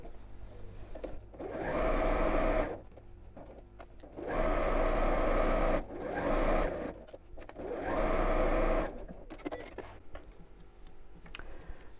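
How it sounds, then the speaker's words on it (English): A sewing machine stitches down the sides of a child's backpack in three separate bursts of steady whirring, each lasting about two seconds, with quiet gaps between them. "I'm going to sew down the sides"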